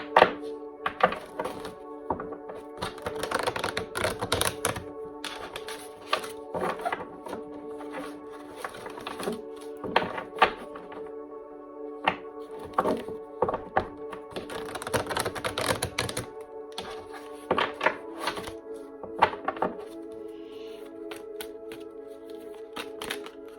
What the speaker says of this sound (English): I like you guys to see me shuffling, but hey, you could hear it.